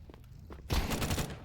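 Shotgun fire in a tactical shooter game sounds as one sudden, dense burst of gunfire after a quiet moment, fairly loud and decaying over about half a second.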